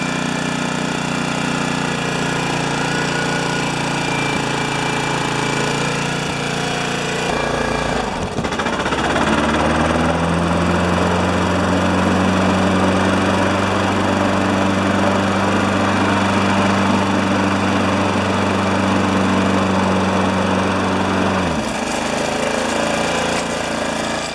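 A loud Honda HRA214 lawn mower engine runs nonstop, close by, with a steady droning roar that shifts pitch and settles into a smoother hum midway.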